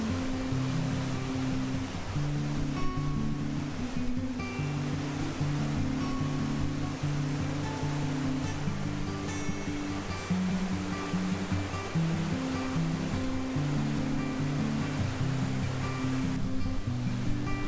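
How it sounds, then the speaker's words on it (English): Waterfall at Clarence Gorge, a heavy volume of water pouring over rocks in a steady, loud, unbroken roar with a deep rumbling low end and no voices. "The amount of water coming over the rocks was absolutely awesome"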